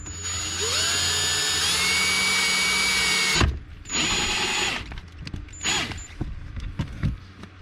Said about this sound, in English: Just remember to check before you drill.